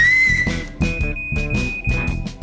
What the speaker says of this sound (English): All you gotta do is whistle and it beeps.